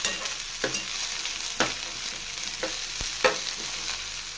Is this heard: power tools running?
no